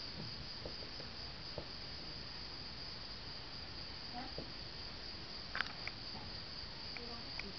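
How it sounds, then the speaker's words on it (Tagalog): Crickets chirp at night in a quiet rural setting, a steady high continuous trill that is faint and unbroken, with a few soft scattered clicks and knocks. "nakakabingi ang katahimikan at maririnig mo lang mga kuliglig"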